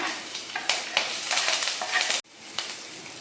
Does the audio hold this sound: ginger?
yes